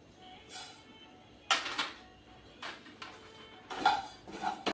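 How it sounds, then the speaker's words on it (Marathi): Coriander seeds dry roasting in a pan, with several bursts of rattling and clinking as the seeds are tossed and the utensil strikes the metal, close by, with no talk. "धने भाजून घेऊ धने भाजून घेऊ"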